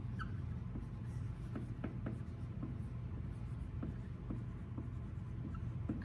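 A pen writes out a conditional statement in a quiet room, making soft scratchy strokes and short taps in an irregular rhythm. The sound is faint and steady, with no talking.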